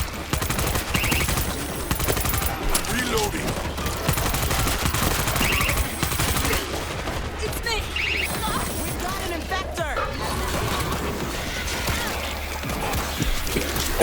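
Dense, continuous gunfire and chaotic combat noise from the zombie shooter World War Z, defending a hospital in New York, relentless bursts filling the whole stretch with no clear pauses.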